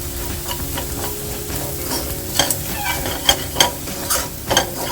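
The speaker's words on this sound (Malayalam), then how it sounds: "സവാളയും ഇഞ്ചിയും വെളുത്തുള്ളിയും നല്ലപോലെ വഴണ്ടി വന്നിട്ടുണ്ട്." Onion, ginger and garlic sauté with spices in a pan for pav bhaji, giving a steady close sizzle broken by several sharp spatula scrapes and clicks against the metal.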